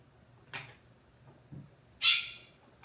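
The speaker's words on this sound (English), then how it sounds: "That's my bird in the background." A pet bird kept in a pottery studio gives two loud, harsh squawks: a short call early on, then a longer, brighter screech near the end, with quiet room noise in between.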